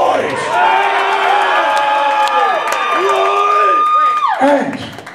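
Crowd at a Goatwhore metal show at Growlers cheering, whooping and shouting loudly and continuously, a dense roar of voices that holds steady before dropping off near the end, with no clear clapping rhythm.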